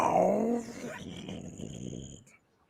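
A dog growl used as a sound effect, loud and close, opens as a harsh snarl and trails off into a lower rumbling growl that fades after about two seconds.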